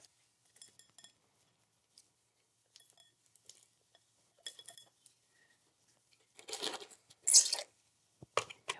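Tiny rubber rocks poured into an open glass terrarium bowl as a top layer, with sparse clicks and small scattered rattles that build into a few louder clinking bursts near the end, close and alone.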